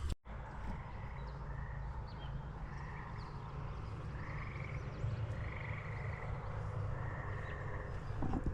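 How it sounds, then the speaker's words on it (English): Frogs croak in repeated bursts over a steady wash of distant road traffic, the calls rising and falling at moderate loudness. "You hear those frogs?"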